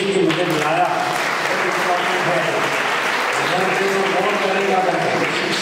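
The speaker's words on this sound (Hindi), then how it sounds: "सर के लिए ताली बजनी चाहिए कि मुझे बुलाया।" Steady applause from an audience at a coaching-class motivational talk fills the whole stretch, a dense continuous patter of many hands with a crowd murmur underneath and no letup.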